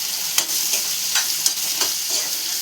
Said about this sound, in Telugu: పచ్చిమిర్చి మంచిగా మిక్స్ చేసుకున్నాను